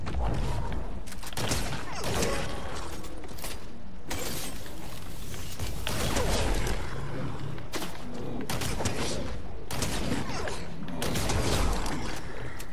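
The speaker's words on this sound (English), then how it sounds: "Someone's sniping." Sniper rifle gunfire in the video game Fortnite, heard as repeated sharp cracks and impacts over dense in-game action noise, loud and close throughout with no talking.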